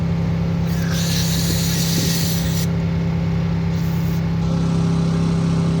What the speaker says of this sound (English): we're gonna spray in there, and it's gonna come out this brass part.